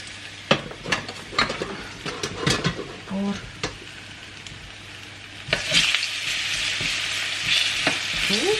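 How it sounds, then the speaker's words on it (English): Parsnips sizzle and crackle in hot oil in a roasting tin, with occasional clinks of utensils; the hiss swells louder and steadier toward the end. "All sizzling away."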